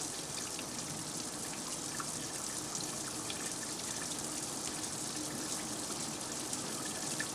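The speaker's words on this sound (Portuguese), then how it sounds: "encharcados por um jato de água pulverizada durante 1 hora" A water spray jet soaks radioactive material transport packages during a regulatory performance test, giving a steady, dense hiss of gushing and splashing water that holds constant throughout with no voices.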